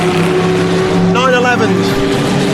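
A Ferrari GT-class race car roars past on a circuit, its engine note loud and close with a rising-then-falling sweep mid-pass, layered over steady engine drone and background crowd and commentary-like voices.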